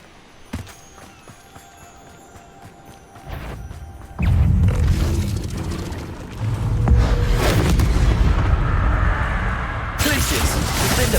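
Bombarda explosion spell cast in the video game Hogwarts Legacy: a heavy booming blast that swells into a loud, sustained rumbling roar, with softer thuds before it.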